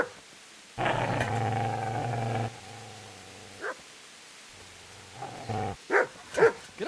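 A dog growls at a man in the Kingdom Come video game. A long, loud, deep growl is followed by a quieter rumble, then short snarls and yips that break off near the end.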